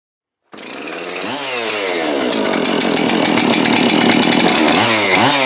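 A Husqvarna 576xp chainsaw engine fires up abruptly after silence and settles into a loud, steady, buzzing run close by, climbing slightly in pitch as it warms and revs near the end.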